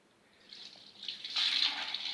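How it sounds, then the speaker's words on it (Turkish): Fresh milk pours through two strainers, a soft liquid trickle that swells into a steady splashing stream, close and alone without talk. "sütü ben sağdığım için iki tane süzgeçten geçireceğim sütü"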